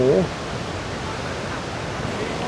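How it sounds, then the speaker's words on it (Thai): Steady broadband roar of rushing waterfall water in fog at Khao Yai, Thailand, with a brief voice at the very start. "เสียงน้ำดังมากเลย นี้มองไม่เห็นอะไรแล้วครับแต่ว่าน้ำเสียงน้ำดังมากเลยครับ"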